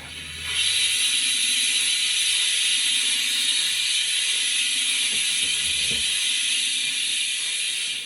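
A Hornby model steam locomotive sound decoder plays a cylinder cock effect, a sharp, steady hiss of escaping steam that starts abruptly and holds at an even level.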